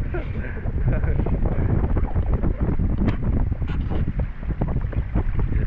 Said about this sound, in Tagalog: Grabe yung hangin sa loob.